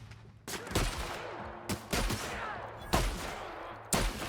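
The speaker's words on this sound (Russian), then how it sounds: "Как будто гвоздями какими-то стреляют" Bursts of gunfire from a sci-fi weapon in The Outer Worlds, a rapid clattering like a nail gun, in four loud volleys separated by short gaps, with no talk.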